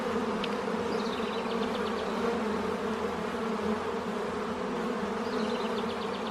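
Honey bees hum loudly and continuously around an open beehive during inspection, a thick droning buzz with steady pitched layers heard up close, with no talking.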